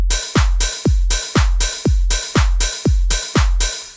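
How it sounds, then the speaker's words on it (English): An FL Studio EDM beat plays a booming kick drum on each beat, with open hi-hats hissing on every offbeat, in a steady loud four-on-the-floor pattern. "to make a standard EDM beat, we're gonna put these open hi-hats always on the offbeat"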